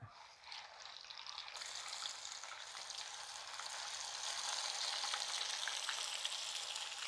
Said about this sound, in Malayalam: അപ്പം നമുക്കിനി ഓരോന്നെടുത്ത് പൊരിച്ചെടുക്കും